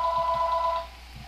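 A phone in the room rings with an incoming call from a solicitor, a bright electronic double-tone trill that repeats quickly for under a second and then cuts off, leaving faint room noise.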